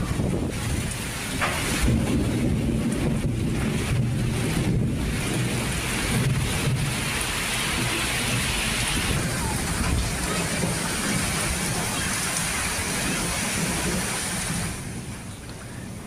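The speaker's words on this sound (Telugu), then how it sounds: "ఒక్కసారిగా ఉరుములతో పాటు గంట సేపు పాటు రాళ్ల వర్షం కురిసింది" Thunderstorm with heavy rain and hail in Vemulawada, Rajanna Sircilla district, Telangana: a dense, loud, continuous roar of rain with low rumbling and wind buffeting the microphone, steady for most of the stretch before easing slightly at the end.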